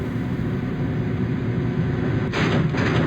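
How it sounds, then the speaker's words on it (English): Heavy rumbling transport noise from a tram in a Star Wars droid-building video game, a steady low drone that swells with a brighter rushing burst near the end as it arrives. "But eventually, we should get picked up by a tram."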